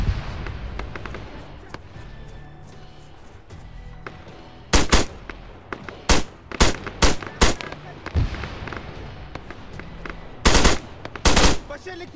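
Heavy machine gun fire in Arma 3 during an infantry assault: scattered distant shots at first, then repeated loud, sharp bursts of automatic fire, some long and some short.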